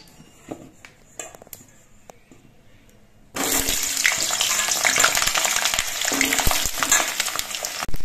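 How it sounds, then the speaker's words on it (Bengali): After a few quiet seconds with faint clinks, cut and washed potato pieces hit hot oil in a pan, setting off a sudden loud, close sizzle that holds steady to the end. "এবার এই আলুগুলো আমি ভেজে নেব।"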